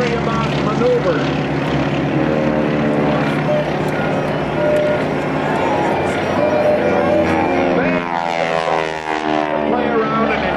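Red Baron Stearman Squadron biplanes in a two-ship performance at the 2004 Rhode Island Air National Guard open house airshow drone loudly and steadily, propeller engines holding a rich humming tone that shifts in pitch near the end as they pass.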